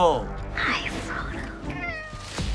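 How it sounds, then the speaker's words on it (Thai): A real cat in the A Quiet Place: Day One trailer meows several times, clear and close, mixed with a tense score and a voice talking over it. "น้องแมวเหมียวคู่ใจของซามิรา รับบทโดยสตันแมวตัวจริงไม่อิงซีจี"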